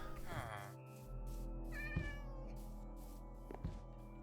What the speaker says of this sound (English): We got a Siamese cat here